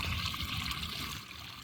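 Water trickles and splashes steadily down a tiered waterfall into a garden pond, a continuous, fairly quiet babble heard alone.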